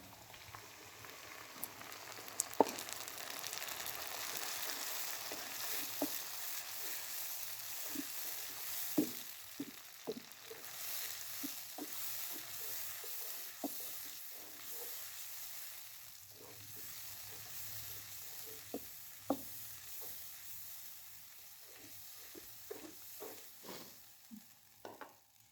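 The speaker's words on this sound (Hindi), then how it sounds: "प्याज मेरे पास यहाँ पे फ्राई हो चुके हैं" Onions fry in a pan for a batair karahi, a quiet steady sizzle broken by scattered pops and stirring scrapes, with no one speaking.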